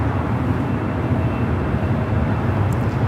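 A United Boeing 787 Dreamliner arriving at Los Angeles International Airport on a flight from Tokyo Haneda gives off a steady broadband jet roar. The sound is fairly loud, continuous and unbroken, with no talk.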